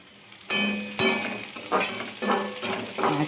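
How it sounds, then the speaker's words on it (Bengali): Onion frying in a wok with green chili, sizzling steadily while a spatula stirs it in repeated scraping strokes, close and clear, with no one talking. "যখন পেঁয়াজটা আর্ধেক ভাজা হয়ে যাবে তখন এর ভিতরে কাঁচা লঙ্কা দিয়ে দেব।"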